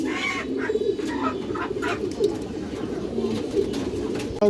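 Old-line Kagoji pigeons coo in soft, repeated low calls at close range, layered over a steady murmur of birds with occasional chirps.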